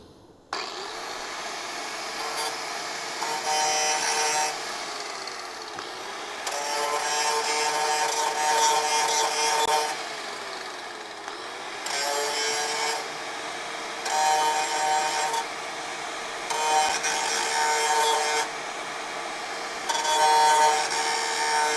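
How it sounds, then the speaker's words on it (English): A grinding wheel works on metal during restoration of a crew cab Charger, a steady loud abrasive whine in repeated long passes that rise and ease with pressure, close by with no talking. "Grinding wheel incoming."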